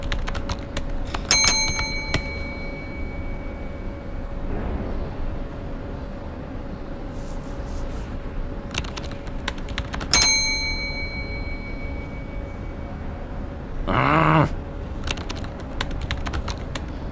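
A bell rings in an animated short, with bright bell-like dings near 1.5 and 10 seconds among light tapping clicks, then a louder ringing burst around 14 seconds over a steady low hum; no talking.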